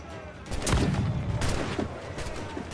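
A swivel cannon fires from a tall ship's deck in Assassin's Creed 4: Black Flag, a loud close boom followed by a rattling volley of gunfire and battle noise, all within a few seconds.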